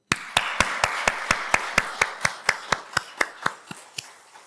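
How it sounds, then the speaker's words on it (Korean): Rhythmic clapping in a church congregation during a Sunday service, about eighteen crisp, evenly spaced claps in unison, loud and close at first and gradually fading toward the end. "제 마음인데 한번 박수 한번 다시"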